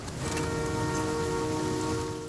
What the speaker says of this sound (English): yeah, it starts to rain